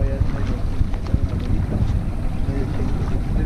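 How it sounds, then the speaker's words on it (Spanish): A fishing motorboat runs through rough waves at sea, giving a continuous loud engine drone mixed with wind buffeting and irregular slaps of water against the hull. "Ahí sí está fuerte el oleaje."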